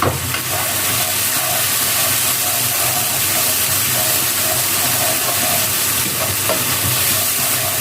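Spices fry in a pan with a little water, salt and turmeric for a Bengali vegetable chorchori, giving a dense, even hiss of sizzling steam with faint stirring underneath, close and constant throughout.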